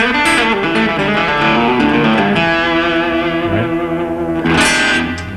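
An electric guitar with distortion, reverb and effects runs a blues scale lick from open A up to B and lands on E, with sustained, saturated notes played continuously and loudly.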